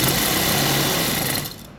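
A sewing machine stitches lace onto a dupatta, running in a loud, fast, even whir close by that slows and fades near the end.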